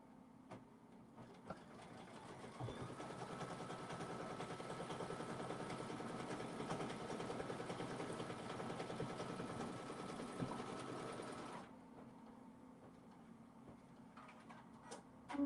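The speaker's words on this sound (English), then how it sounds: "So now we're doing the placement stitch for the flowers. It'll do all 3 of them at the same time." Embroidery sewing machine stitching the placement outline for three flowers of a strawberry quilt block, a steady, quiet, rapid mechanical whir and tick running about twelve seconds before stopping.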